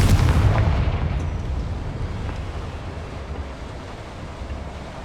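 Confringo fire spell explosion in Hogwarts Legacy: a loud, booming blast at the start that rumbles and decays into a long, wind-like roar fading over several seconds.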